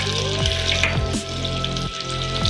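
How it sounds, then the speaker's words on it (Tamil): Chicken 65 pieces frying in hot oil while being stirred, with a steady dense sizzle and a few scraping knocks from the stirring. The sound is close and continuous, with no voices. "எங்கே பார்த்தாலும் ஆயிலில் சிக்கன் எல்லாம் முழுகிற மாதிரி நல்லா கிண்டிட்டு இருங்க"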